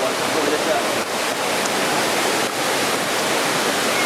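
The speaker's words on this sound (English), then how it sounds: "And here is the big part of the falls." Panther Creek waterfall in the North Georgia forest roars as a loud, close, continuous rush of falling water, broad and unbroken, with no voices heard.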